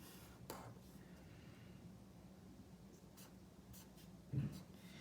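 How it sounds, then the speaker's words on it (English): A pen or pencil scratches across paper as a tape diagram is drawn by hand for a math lesson, faint and close, with brief strokes and a soft thump near the end. "So draw a tape diagram to find the total."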